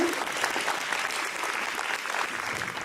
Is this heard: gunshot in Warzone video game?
no